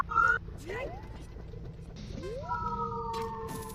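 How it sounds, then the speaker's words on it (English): Fire engine sirens from a fire station next door, wailing tones rising and sweeping across the clip, fairly faint and heard through walls, with a low hum and a voice underneath. "Apologies for the sirens, I live next door to a fire station."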